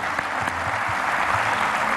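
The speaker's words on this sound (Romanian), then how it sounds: "Puteți să mă aplaudați ca să prind curaj." A television studio audience at a Romanian entertainment show applauds steadily, a dense, loud wash of many hands clapping that holds evenly for the whole stretch.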